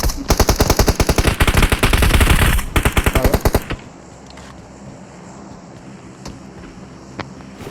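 Rapid automatic gunfire in PUBG Mobile rattles in a loud, dense burst for several seconds, then stops abruptly, leaving quiet ambience with a few faint distant shots.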